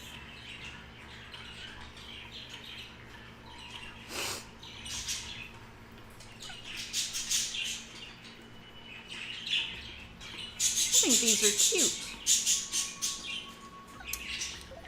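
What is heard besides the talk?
pet birds chirping loudly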